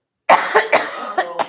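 A woman coughs in a rapid burst of about five close, loud coughs, the first the strongest, then a short rasping tail.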